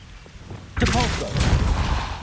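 Depulso spell cast in Hogwarts Legacy: after a quiet moment a sudden forceful burst hits, a loud whooshing blast with a rumbling tail that keeps going under the game's sound.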